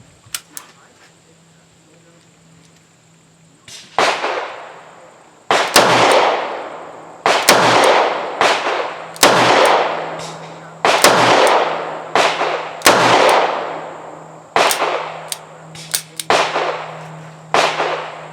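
Smith & Wesson 642-1 .38 Special revolver firing 158-grain jacketed hollow point rounds at a range, about ten sharp loud shots in uneven pairs and singles, each with a brief ringing decay over a faint steady hum.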